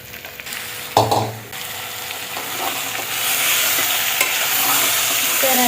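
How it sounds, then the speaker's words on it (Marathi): Marinated mutton with coriander sautéing in a pan for a village-style mutton curry, a continuous close sizzle with a loud spatula clatter early on and stirring scrapes, growing louder as it goes. "मटण टाकले मी आणि आता हे चांगलं परतून घेते 2 मिनिटं"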